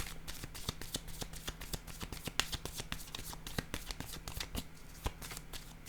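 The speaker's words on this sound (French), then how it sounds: "Je vais déposer une carte ici et par la suite une ici." Playing cards are shuffled, handled and laid down on a surface in a tarot-style reading, a steady stream of soft, crisp flicks and taps heard close up under a quiet background hum.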